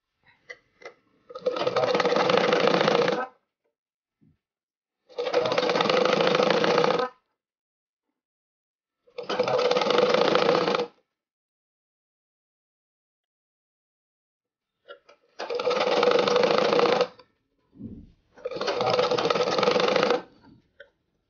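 A sewing machine stitches the hem of a frock in five separate bursts of rapid, whirring stitching, each lasting a couple of seconds with quiet pauses between, heard close and alone.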